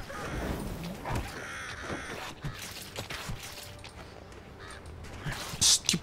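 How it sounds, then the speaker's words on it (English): Crows caw repeatedly in Vikings: Wolves of Midgard, harsh croaking calls scattered over a busy game backdrop of creaks and footsteps, with one sharper caw near the end. "Stupid birds. Stupid birds."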